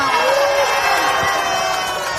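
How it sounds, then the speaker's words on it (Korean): A dense outdoor crowd at a Mapo campaign rally cheering and shouting to welcome Lee Jae-myung, loud and sustained, with a steady wash of voices. "우리의 대표님, 이재명 대표님을 다시 한번 큰 박수로 맞아주시기 바랍니다"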